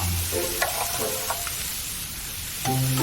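Fish frying in a pan of oil that is too hot, a steady close crackling sizzle with a few scraping stirs, with no talk over it.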